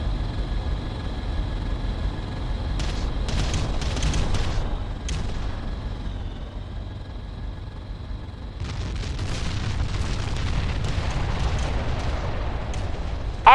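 Artillery bombardment in the strategy game Ground Control, a rumbling stream of distant explosions and booms with a steady whine above, easing midway and then swelling again.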